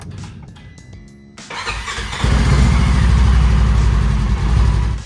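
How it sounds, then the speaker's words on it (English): A Polaris RZR engine cranks briefly and catches, then settles into a loud, close, steady idle with a slight lift near the end before cutting off. "start the vehicle and let the motor run for a little while to get the oil warmed"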